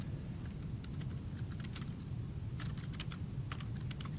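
Typing on a computer keyboard during a programming lecture, quiet irregular clusters of key clicks over a steady low room hum, with no talking.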